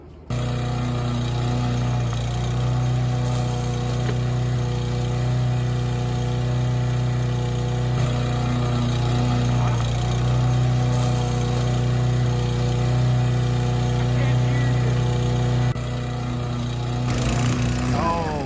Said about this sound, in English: I said it's mowing time.